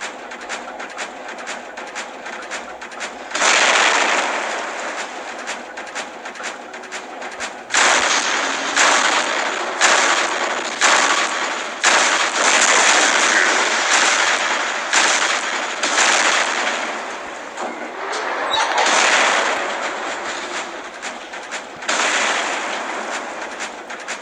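Loud video-game gunfire fires in long sustained bursts broken by short pauses, a dense rattling barrage from an enemy, with no talking.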